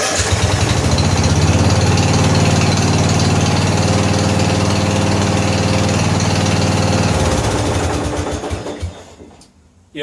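A 14 HP Briggs & Stratton engine on a Murray riding mower running loud and steady with a rough mechanical chatter, then winding down and fading out near the end.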